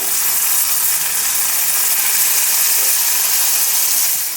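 Paneer pieces frying in ghee in a pan give a steady, loud, close sizzle with a dense bright hiss that holds evenly for the whole stretch, with no voices over it.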